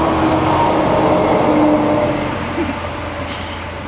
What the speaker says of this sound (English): where dump trucks drive by about every 5 minutes